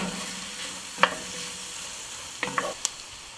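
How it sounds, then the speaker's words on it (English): Vegetables stirred with tomato paste and cinnamon in a pan for osso bucco, with a faint background sizzle and a few sharp scrapes and clinks of a utensil against the pan, no talk. "And then we'll obviously give that a good stir to get the tomato paste as well as the cinnamon a little bit all over our vegetables."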